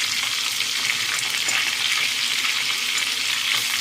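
Onion tossed into a pan of green garlic and asafoetida frying in oil gives a loud, steady, continuous sizzle with no pauses and no talking.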